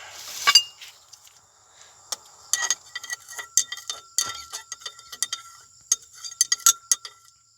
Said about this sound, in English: Let's stir.